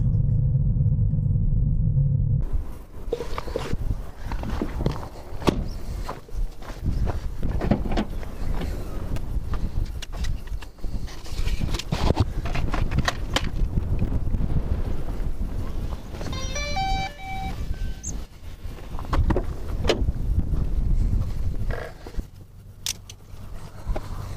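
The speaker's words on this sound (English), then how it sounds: "There is strong wind indeed, and it's really cold" Strong, cold wind buffets the microphone outdoors by a monument, a loud continuous rumbling roar with gusty swells and scattered rattles and clatter, lasting nearly the whole stretch after a brief quieter opening, with no talk.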